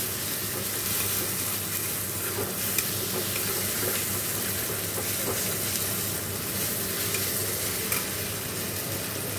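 A pot of dal (lentils) set on the stove in a home kitchen, giving a steady, moderate sizzling and bubbling with faint stirring scrapes, continuous and without talk.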